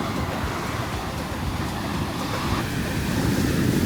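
Ocean waves washing onto a beach in a Russian town in Vietnam, a continuous low rushing surf mixed with wind buffeting the microphone, steady and fairly loud with no clear speech.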